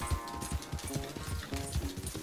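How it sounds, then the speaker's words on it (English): Horse hooves galloping hard during a race in Red Dead Redemption 2, a steady rapid clip-clop rhythm close up with layered game sound around it. "his horse looks like it's going to be a lot faster"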